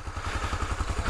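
A new motorcycle's engine runs close by with a rapid, even, pulsing thump at idle, loud and steady for the whole moment, with no voices.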